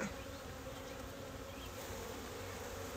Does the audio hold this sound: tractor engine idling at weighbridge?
no